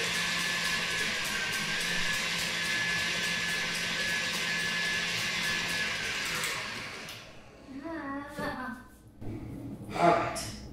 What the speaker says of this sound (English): We're going to start out and we're going to just whisk it.